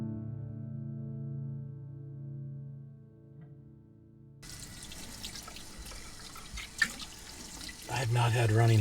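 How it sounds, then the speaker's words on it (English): Tap water gushes steadily into a sink after a quiet stretch of low hum, close and moderately loud, with a small clunk partway through. "I have not had running water in over 6 months."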